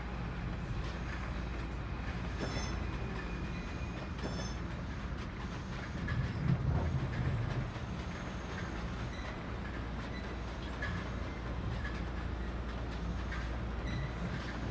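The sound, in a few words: Metro North M7 commuter train passing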